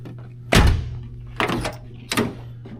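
Car door of a 1985 Chevrolet Caprice, driver's side, shut three times in close succession: heavy, solid thunks recorded up close with short pauses between them.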